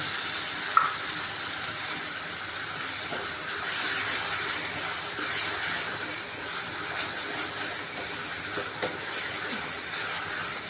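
Chopped tomatoes sautéing with onions in a pan for a Kathiyawadi kaju gathia curry, giving a steady, soft sizzle and hiss throughout with a few faint stirring clicks and no talking.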